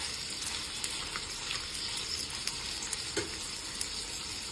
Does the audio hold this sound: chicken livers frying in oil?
yes